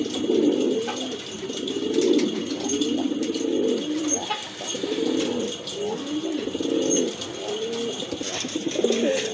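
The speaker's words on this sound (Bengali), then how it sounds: "আর এই যে ডাকতেছে এটা কিন্তু আপনার নর কবুতর" Male pigeon at a pigeon loft giving repeated deep, rolling coos in close succession, near and clear over a faint background hiss.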